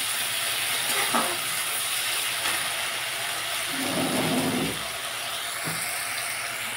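Spices nearly done frying in a pan sizzle steadily as tomato sauce is added, a constant hiss with a few brief louder bursts, no talking.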